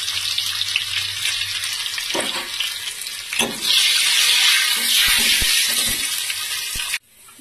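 Dried chillies and crushed garlic hit hot mustard oil in a pan, giving a loud, bright hiss and crackle that swells and sputters, then cuts off abruptly near the end.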